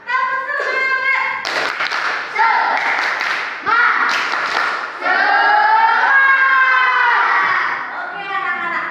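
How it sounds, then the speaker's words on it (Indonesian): Elementary students in a classroom perform a spirit clap, bursts of hand claps alternating with loud chanted voices in a quick rhythmic pattern, close and energetic over roughly nine seconds. "Tepuk semangat."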